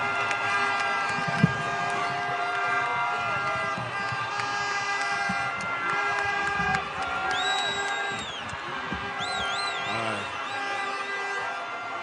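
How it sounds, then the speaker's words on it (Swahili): A large outdoor crowd at a Jamhuri Day national celebration in Nairobi cheers and claps for Governor Johnson Sakaja, a sustained dense roar with brief whistles and a siren-like wail rising near the end. "Wapi makofi ya gavana?"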